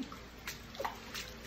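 Pump drawing up floodwater inside a shop after Hurricane Ida, a steady watery wash and trickle with a few brief splashy surges, fairly quiet and continuous.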